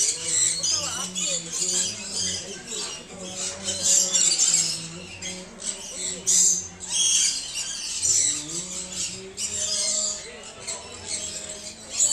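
Assorted caged birds squawking, chirping and squeaking at an outdoor bird show in Santosh Mitra Square, a dense near chorus of overlapping calls with a person talking over it.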